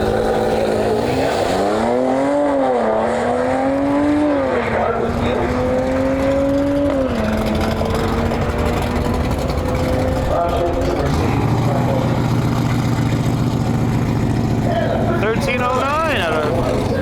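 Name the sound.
Mercedes C43 drag racing run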